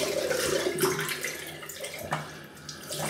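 Tap water runs into a sink to wet a shaving brush, a soft steady splashing stream with a few brief surges, fairly quiet and close, with no voices.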